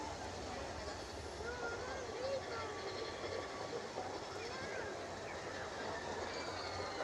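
A Disneyland train rolls past amid theme-park ambience, a steady low rumble and faint rail rattle heard at moderate distance. Distant crowd chatter sits beneath it throughout.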